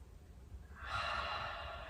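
One deep inhale taken during a quiet yin yoga session, a soft breathy intake of air rising and holding for about a second, close and alone.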